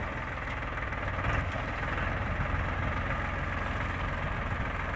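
A tractor engine idles steadily while pipes irrigate a field. A continuous low, throbbing rumble runs close and unchanging throughout, with no voices.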